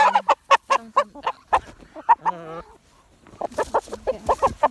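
A Rhode Island Red crossed with Hubbard rooster clucks in sharp, repeated bursts up close, breaking into a short crow-like call midway before the rapid clucking resumes.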